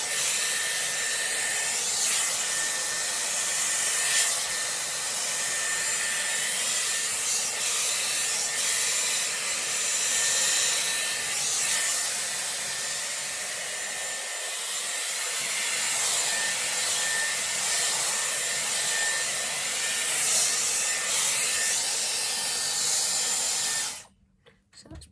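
Dyson Airwrap round brush blow-drying hair gives a steady, loud, airy hiss with faint brushing and rubbing strokes throughout, cutting off abruptly near the end, with no talk.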